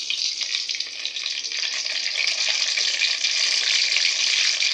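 Brinjal pieces frying in melted ghee for an oil brinjal curry, a steady, dense sizzle that holds loud and even throughout with no voices.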